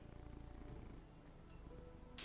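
A cat purrs close to a microphone in a steady, low, rhythmic rumble, soft and continuous, with a brief brighter noise near the end.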